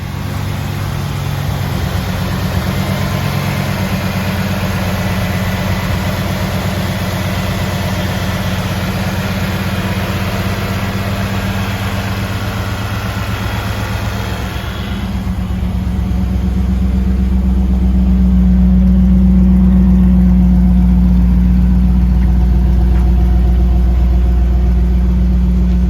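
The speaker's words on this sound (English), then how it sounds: "we're going to get the engine started up" A 1991 Pontiac Firebird Formula engine settles into a steady idle, a smooth low rumble with a continuous hum, growing louder and deeper partway through as it stays running, close and without talk.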